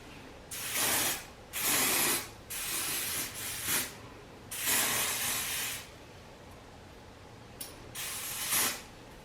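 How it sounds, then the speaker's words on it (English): Lace spray hisses out in about six separate bursts, each a second or so long with short pauses between, sprayed close up while installing a 28-inch ombre lace wig. "I am going to be going in with the even lace spray."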